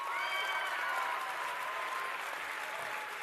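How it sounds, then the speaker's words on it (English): An audience applauds at the closing ceremony of the 2025 WorldSkills National Championships, a dense, even wash of clapping that holds steady throughout, with a faint tone running beneath it. "Give yourselves a big round of applause"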